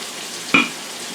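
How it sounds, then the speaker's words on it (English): Olive oil poured over a salmon stew in a hot pot sets off a short, sharp sizzle burst against a soft, steady background hiss. "I'm putting more olive oil on the top"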